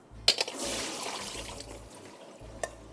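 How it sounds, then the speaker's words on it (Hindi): Water drains and drips from soaked, cut zucchini in a kitchen, a soft trickling with a few sharper splashes near the start and end, fairly quiet and close. "पानी इसका निकाल देते हैं हम"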